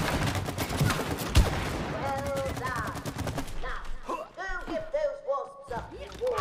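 Gunfire from It Takes Two as players shoot a squirrel, with rapid bursts of shots over layered game sound effects and music, a sharp loud crack early on, then chirpy cartoonish tones.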